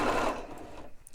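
A sewing machine fitted with twin needles runs a straight stitch in a short, fast mechanical whir that fades out after about a second.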